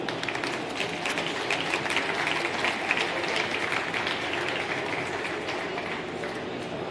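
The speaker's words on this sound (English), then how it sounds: "Give them a huge round of applause." A conference crowd at a tech forum applauds panelists taking the stage, a broad, even wash of clapping that holds steady throughout without fading.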